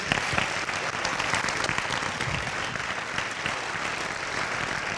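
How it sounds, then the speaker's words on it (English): An audience at an environmental forum in Edina gives a steady round of applause for the speakers: dense, even clapping from a roomful of people that continues for five seconds. "Could we have another round of applause for our speakers?"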